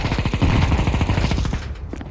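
Rapid automatic gunfire in the video game Counter-Strike 2, a dense, loud burst of shots that rattles continuously for about a second and a half before tapering off, with no talking.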